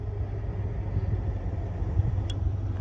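A car engine rumbles low and steady at idle while the car sits winched up onto a trailer, with a faint brief whine near the end.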